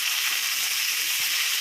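Pieces sizzle and fry steadily in hot oil in a pan while a small-fish curry with dried fish and brinjal is being made, a continuous close crackle with no talking.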